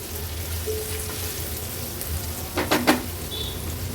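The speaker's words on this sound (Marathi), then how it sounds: "आलं लसूण क्रश आणि कांदा व्यवस्थित आपल्याला शिजवून घ्यायचा आहे." Chopped onion and crushed ginger-garlic sauté in a pan over low-to-medium flame, making a constant rain-like sizzle with a couple of quick spatula scrapes near the end.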